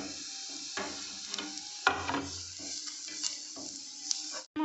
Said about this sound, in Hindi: अब हम 1/2 गाजर क्रश करके रखे हैं, इसको भी हम इसमें हल्का सा सौटे करेंगे।